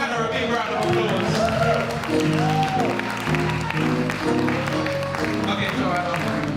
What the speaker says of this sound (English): Can everyone please give Joanna a big round of applause?